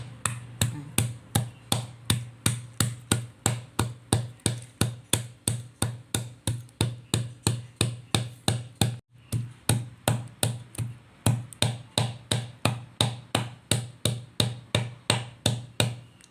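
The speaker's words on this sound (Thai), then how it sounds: "ไม่ใช่เสียงสับหมูนะครับนี่เสียงปลาสับนะครับ" Steady, rapid knife chops on a wooden cutting board, mincing fish for Thai pla ra sap, a continuous even rhythm of sharp thuds with a brief pause midway, close and fairly quiet.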